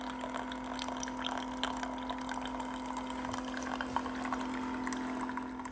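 A Keurig K-Slim coffee maker dispenses hot chocolate with a steady, fairly quiet pouring and pumping hiss, humming along without breaks and no voices.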